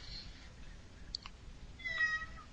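A person imitating a cat, giving a short high meow followed by a longer drawn-out meow, faint and alone against quiet room noise.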